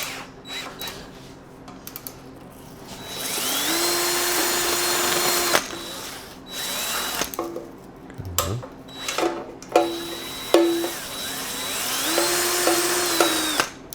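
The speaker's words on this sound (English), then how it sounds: "We can chuck that into a drill." A power drill whirs in repeated bursts, spinning a distributor drive part from a 1976 Triumph TR6 to clean it, spooling up and winding down between short pauses with clinks of metal.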